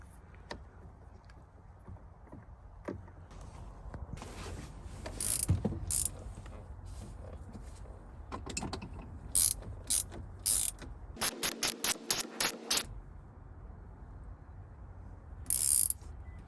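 A ratchet drives the steering wheel bolt back in on a VW Atlas: scattered clicks and mechanical rattles, then a fast burst of ratcheting clicks and a few more sharp ticks, close up with no talking.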